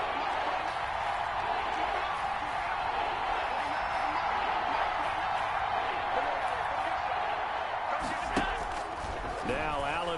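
Steady stadium crowd noise rumbles throughout a football video game ahead of a big third down, a constant dense roar with a brief thump near the end and an announcer talking over it.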